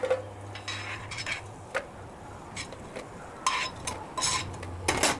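Metal utensils clink and scrape against a pan as golden-brown fried bread slices are lifted out into another dish while making a quick bread sweet, with scattered light taps and a faint sizzle, no talking.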